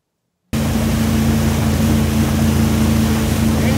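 A steady wake-surfing boat engine drones loudly and continuously, starting abruptly after a moment of silence, with rushing water and wind beneath it.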